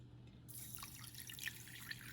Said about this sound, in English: I'm going to start adding water.